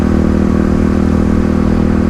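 A Kawasaki KLX351 dirt bike running a lidless airbox and a loud Barker exhaust roars during a power wheelie, its engine held at a loud, steady, close-up drone with a rough, crackling edge throughout.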